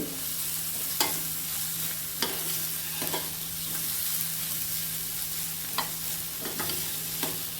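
Vegetables sautéing in a pan for a mutton keema vegetable gravy: a constant soft frying hiss broken by a few sharp clicks of a stirring spoon against the metal.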